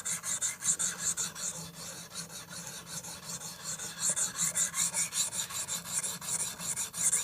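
Axe edge being sharpened with the KME guided sharpening system, giving repeated rhythmic raspy filing strokes against steel, close and fairly quiet, with no talking.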